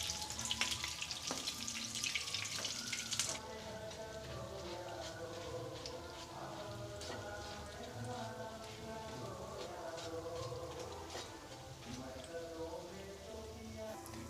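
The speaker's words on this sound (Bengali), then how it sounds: "খুব সাবধানে হালকা করে বড়াগুলোকে ভাজতে হবে" Lentil-batter fritters for motichur laddu fry gently in hot oil, a steady bubbling sizzle with a brief louder burst at the start, continuing evenly and fairly quietly throughout.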